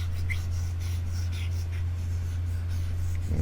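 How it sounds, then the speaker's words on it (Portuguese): Brief rubbing strokes from a board being erased sound faintly against a steady low electrical hum, the wiping coming in soft repeated swipes. "Eu preciso de abrir espaço aqui, então vou apagar o que eu acabei de escrever."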